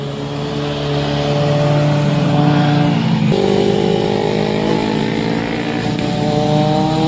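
A loud big-bike motorcycle engine roars close by, its pitch dipping as it passes, then a deep rumbling drone continues as it rides on.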